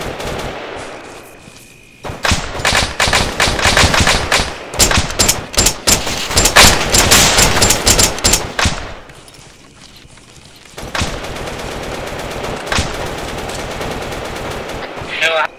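Dense gunfire in a night combat match of the video game Arma 3, with long stretches of rapid automatic bursts and single shots, loud and close, pausing briefly before another sustained volley.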